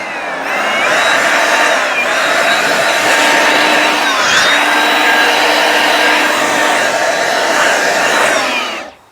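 Steady loud blast of air, likely from an air blower or compressor nozzle, clearing sawdust after a circular saw cut, running continuously for about eight seconds and then cutting off.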